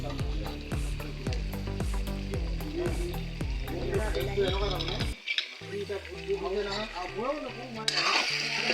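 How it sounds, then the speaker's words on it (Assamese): Chopped tomatoes hit hot oil for an Assamese chicken curry cooked over a wood fire, a loud steady sizzle and crackle with scraping stirring strokes, while someone talks over the frying. "চাইছেনে তেল ওলাই গৈছে। এতিয়া মই ইয়াত দি দিম কাটি লোৱা বিলাহী।"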